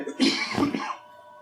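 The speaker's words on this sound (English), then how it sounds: "Diddy, you gotta stop smoking so much with that cough" A smoker's short, rough cough, close to the microphone, with a couple of harsh throaty bursts that fade out within about a second.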